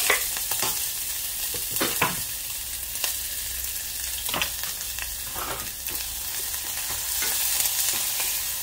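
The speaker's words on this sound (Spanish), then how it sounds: "ahorita vamos a poner la cebolla." Finely chopped onion frying in hot oil for chicken tacos dorados, with a constant loud sizzle broken by repeated scraping strokes of a spoon stirring the pan.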